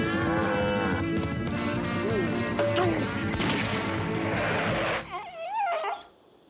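A cartoon bull lets out a loud, drawn-out moo over busy animated-Western music and effects, with the low bellow fading near the end.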